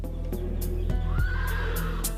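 A horse neighs in a loud, drawn-out whinny close by, its call rising and falling over steady low background noise with a few short thumps.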